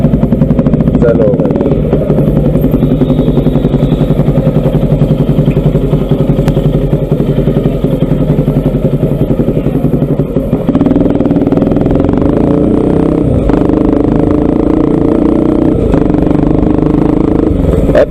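A Bajaj Pulsar 200 NS motorcycle engine runs steadily and loud throughout, a deep low thumping idle that shifts to a fuller, slightly higher note partway through.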